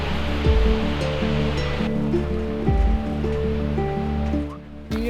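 Skógafoss waterfall in Iceland roars as a steady, broad rush of falling water, loud and continuous, with a few low thumps and no speech.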